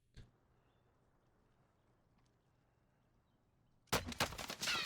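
Gunfire in the Warzone video game: one faint shot near the start, then a loud, dense burst of rapid shots in the final second.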